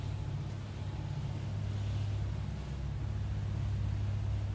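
A motorboat moves along the busy East River in New York City, giving a steady, low engine rumble with wind noise over it throughout.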